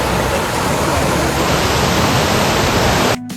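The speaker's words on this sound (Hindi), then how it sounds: "और ये देखिए झरने की कलकल की आवाज़ कितनी मधुर सुनाई दे रही है।" Tiger Falls waterfall near Chakrata pours down through trees, producing a loud, steady broadband rush of falling water that continues without a break before cutting off abruptly near the end. No voices are heard.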